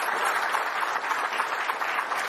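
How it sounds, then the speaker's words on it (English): Applause from an audience at the launch of the 2022 McLaren MCL36 Formula 1 car, a dense, steady wash of many hands clapping at moderate distance, with no talk over it. "I think we should have another round of applause for the car, for the drivers, for everyone."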